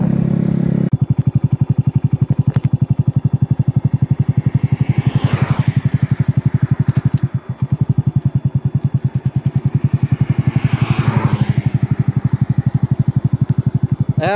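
A Honda Pop 110 motorcycle ridden up close, its small engine putting out a loud, rapid, steady exhaust beat with occasional whooshes of wind and clatter over the ride.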